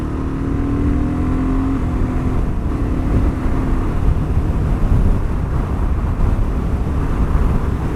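BSA Goldstar 650 motorcycle cruising at motorway speed in fifth gear, a loud continuous engine drone mixed with heavy wind rush, steady throughout from the rider's position.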